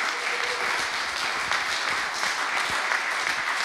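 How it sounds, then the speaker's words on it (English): Sustained applause from a conference audience at a city policy event, many hands clapping evenly at moderate volume for a few seconds, with no one speaking. "So also a big applause again for Donna for taking this here."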